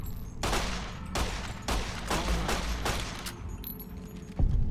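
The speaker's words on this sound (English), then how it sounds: "I'm going to use my rapid fire for the rest of them." Rapid bursts of gunfire in Fallout: New Vegas, several sharp volleys in quick succession over a low game ambience, loud and close, with a final heavier thump near the end.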